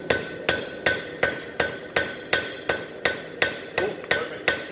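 A hammer strikes metal on an anvil during blacksmith forging, about a dozen sharp ringing blows at an even, brisk rhythm, close and loud with no talk.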